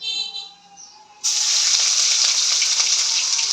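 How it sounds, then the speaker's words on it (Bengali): Ginger frying in hot oil in a home kitchen: after a brief quieter start, a loud, steady sizzle bursts in when the ginger hits the pan and continues without a break. "আদাটা একটু ভাজা ভাজা হবে।"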